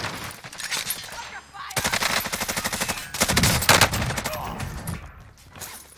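A Bruen machine gun in Warzone fires in rapid automatic bursts, several long strings of shots separated by short pauses, loud and close in a warehouse setting.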